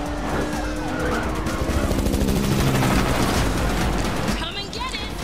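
Rapid gunfire and crashing car action from the video game The Matrix Awakens, dense and loud with engine roar, bursts of shots and impacts, and a voice talking underneath.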